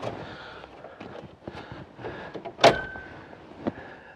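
A switch and fuse panel is worked loose from a salvage-yard plow truck. Soft rustling and handling noises lead up to one sharp plastic snap as it pulls free, followed by a smaller click.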